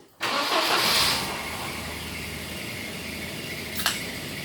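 A Volvo car engine cranks and catches after the air mass meter and battery are reconnected, then settles into a steady idle with a faint brief clatter near the end; close and fairly loud.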